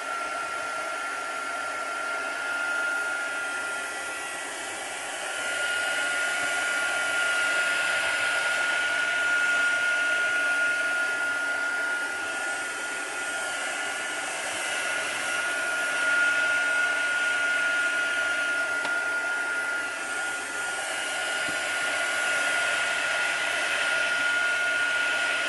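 A hair dryer blows steadily and loudly at close range while it dries a layer of paint on an altered box. The whir runs on without a break and barely changes.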